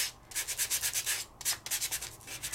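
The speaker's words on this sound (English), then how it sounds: "I'm gonna sand off the top part of my paper." Rapid rhythmic rasping of a handheld sanding gadget scraping back and forth over embossed paper, close up, in two bursts separated by a brief pause.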